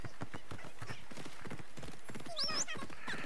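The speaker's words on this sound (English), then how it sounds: "I've called the horse." A horse in the video game Assassin's Creed Odyssey clip-clops in a steady, close, rhythmic trot, with a short whinny partway through.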